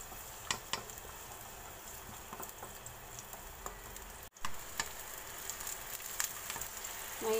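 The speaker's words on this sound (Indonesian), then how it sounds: "Lalu kita goreng bawang merah dan bawang putihnya ya." Shallots and garlic frying in oil in a pan, with a soft continuous sizzle broken by scattered pops and ticks; it cuts out briefly partway through, then resumes.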